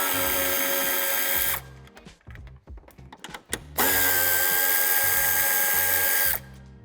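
A power tool loosens the nuts holding the bumper on a 2017-2024 BMW X3 (G01) during a tow hitch installation. Two long, loud, steady whirring bursts are separated by a short stretch of clicks and handling noise, with no talk.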